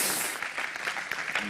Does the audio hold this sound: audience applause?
yes